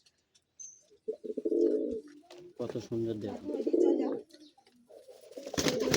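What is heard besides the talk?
pigeons cooing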